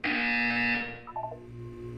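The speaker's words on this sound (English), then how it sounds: "When you hear the buzzer, look down at the floor." A loud, sustained electronic buzzer sounds inside the Portal 2 test chamber for about a second, then cuts off into quieter synthetic tones and a low background hum.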